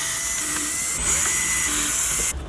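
Power screwdriver or drill running steadily while removing the radio mounting screws on a Volkswagen Golf or Jetta, a continuous close, loud whine with slight pitch shifts, cutting off near the end.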